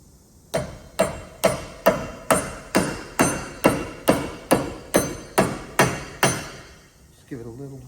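Mallet blows driving an axle into the limited-slip differential of an LX Torana hatch, about fourteen sharp, evenly spaced metallic knocks close to the microphone, followed by brief rustling.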